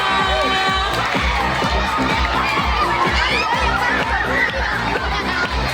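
A school audience at a primary school's end-of-year showcase claps and cheers loudly and steadily, with children shouting over a dense crowd roar throughout.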